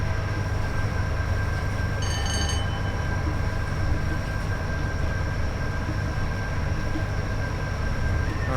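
A Class 87 electric locomotive in Train Sim World 5 runs at speed with a steady low rumble of wheels and motors, a faint high electrical whine, and a brief cluster of tones near the start.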